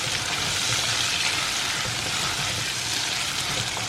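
Cauliflower sautés with onion and tomato in a pan, giving a continuous, close sizzle and crackle of frying at an even level with no talk.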